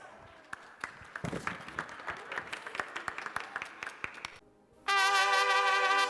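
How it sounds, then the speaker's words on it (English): Scattered clapping from an audience after a Balinese dance group performs at an event, thin and uneven at first, stopping briefly before a loud burst of bright, tonal music cuts in. "Give them a hand clap of praise."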